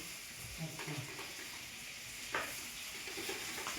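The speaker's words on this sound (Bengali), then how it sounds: "এখানটায় মাছ ভেজে নিচ্ছি" Fish sizzles steadily in a hot frying pan as part of a Bengali fish curry. A constant hiss is broken by a few soft clinks and stirs, with brief faint voices underneath.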